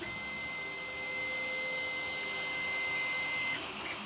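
A RatRig V-Core 3 500 3D printer running a print job, giving a steady mechanical whir and hum with a sustained high stepper-motor tone, fairly close and continuous, with no voices.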